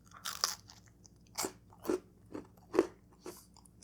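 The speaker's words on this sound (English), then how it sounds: "You can hear the crust is very crispy." Crispy wood-fired pizza crust, cooked on a smoker, crunches under several bites and chews, with five or six sharp crackly crunches at uneven intervals, close and fairly quiet with no talking.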